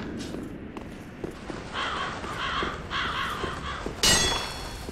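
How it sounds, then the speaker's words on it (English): Crows caw in two long repeated bursts in the video game Dark Souls 3, in the Undead Settlement area, over a busy game background, followed by a sudden metallic clang near the end. "I feel like I missed a nice scene of flying crows."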